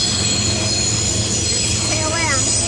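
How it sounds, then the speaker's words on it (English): A freight train rolls across the Thompson River near a campground south of Spences Bridge, British Columbia, giving a steady, loud roar of rail noise with high squealing wheels throughout. "There's the tail end of the other train."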